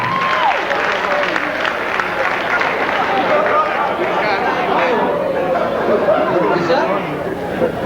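A comedy show audience applauds and cheers a comedian being welcomed to the stage, a loud, dense wash of clapping and crowd chatter that holds steady throughout.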